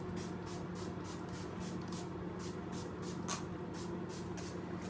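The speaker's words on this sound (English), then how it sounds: "I'm just going to spray that a little bit now" Faint repeated short hisses of an aerosol hairspray, about a dozen quick bursts over a steady low background hum.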